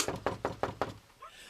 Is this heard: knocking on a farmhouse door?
yes